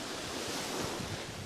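Sea water washing over a sandy beach, a continuous near wash of surf with gusty wind buffeting the microphone.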